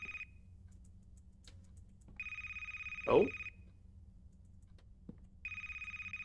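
Telephone ringing in a video game, three evenly spaced electronic ring bursts about two seconds apart with silence between, over a faint low hum; a voice briefly exclaims in the middle.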